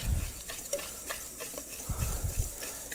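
Dry coffee cake crumb topping stirred in a bowl, soft scraping and stirring strokes with a few light clinks, close and moderately quiet.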